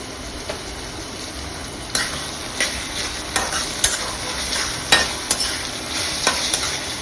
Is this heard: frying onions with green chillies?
yes